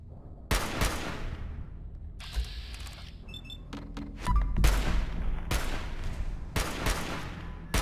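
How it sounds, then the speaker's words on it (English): Bursts of minigun fire from a Fallout 1 remake mod game ring out in several sharp, loud volleys separated by brief gaps, with faint clicks and other game effects in between. "He's very good with his minigun, isn't he?"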